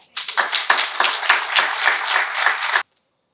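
Audience applauding speakers at an industry day event, a close burst of many hands clapping for a few seconds before stopping abruptly into silence.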